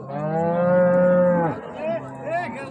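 A high-yield dairy cow at a Raniganj cattle market, with her calf nearby, lets out one long, loud moo up close, followed by a couple of shorter, softer lowing calls.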